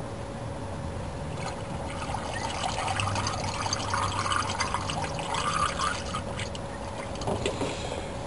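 Water poured steadily to fill a container, a soft continuous splashing trickle with slight swells in loudness, fairly close and without talk.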